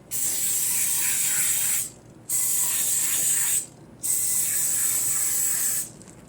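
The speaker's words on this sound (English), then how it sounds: "spray each hole down with nonstick spray" Three long hissing bursts of aerosol nonstick cooking spray onto a muffin pan, each lasting one to two seconds with short pauses between, close and fairly loud.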